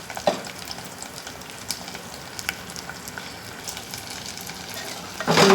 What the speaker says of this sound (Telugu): ఉల్లిపాయ ముక్కలు వేసుకొని ఉల్లిపాయలను కూడా బాగా వేగిపోవాలి.